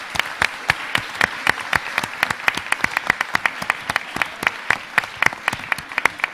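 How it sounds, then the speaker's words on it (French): An audience at a French education conference plenary claps, sharp distinct claps in a steady rapid rhythm, fairly close and loud, with no voices over it. "je crois que vous pouvez les applaudir très fort."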